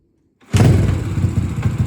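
Big-bore BBR-built Yamaha TTR125 dirt bike kicked once and firing up, a thump into a loud steady engine chug that starts abruptly after half a second of silence.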